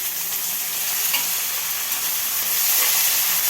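Peanuts, green chilies and curry leaves fry in hot oil for upma, a steady bright sizzle with occasional stirring scrapes, close and continuous with no talk.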